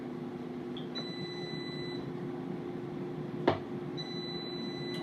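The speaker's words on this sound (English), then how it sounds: "this is beeping" An air fryer in a home kitchen gives a few short, high electronic beeps when it finishes cooking, clear tones over a steady low background hum, with no talk.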